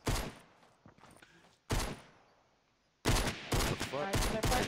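Gunfire in Fortnite Battle Royale on Xbox One, with bursts of rapid shots coming in three separate clusters, the last dense and loud, with quieter thuds and low talk in the gaps.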